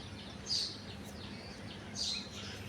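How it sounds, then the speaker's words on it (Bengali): Two faint, high morning bird chirps rise briefly over a quiet, low background hum, spaced a second or so apart. "শুনতে পাচ্ছ তোমরা পাখির ডাক সকালবেলা"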